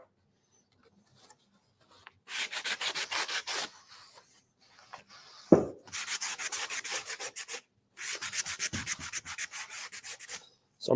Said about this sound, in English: I'm just sanding off the edge of the decoupage paper here so I can have it nice and neat.